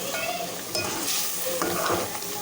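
Masala spice paste for achar gosht sizzles and fries in a pan, with a spoon stirring and scraping against the metal in short bursts, close and busy without any voices.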